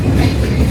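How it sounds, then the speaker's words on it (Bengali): The Simanta Express intercity train rumbles into Saidpur railway station, running an hour late, with a loud, dense low roar from close by in a brief burst. "এক ঘন্টা লেটে সৈয়দপুর রেল স্টেশনে প্রবেশ করেছে সীমান্ত এক্সপ্রেস আন্তনগর।"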